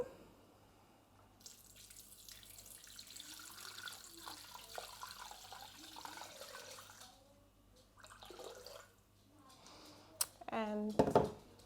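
Water runs and splashes into a Thermomix TM6 mixing bowl at moderate volume, with some clinking near the end and faint talk around it.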